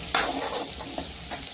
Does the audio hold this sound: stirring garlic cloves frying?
yes